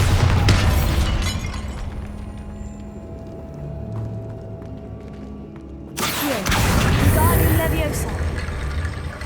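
A Bombarda spell explosion in Hogwarts Legacy hits with a sudden loud blast and shattering burst, which rolls into a rumbling, crackling tail over the game's ongoing noise.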